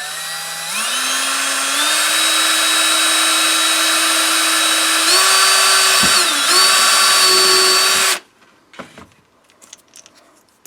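A power drill with a quarter-inch bit spins up and bores steadily for about seven seconds with a loud, even whine that rises slightly in pitch, then cuts off. Faint handling clatter follows.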